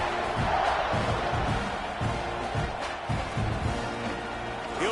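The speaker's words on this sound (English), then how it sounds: "this crowd is buzzing after that last score" Football stadium crowd buzzing with excitement after a score, a loud, dense wash of voices and cheers holding steady for the full stretch, with bursts of shouting rising from the mass.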